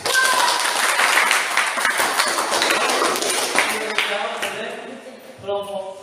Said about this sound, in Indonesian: saya dulu tepuk tangan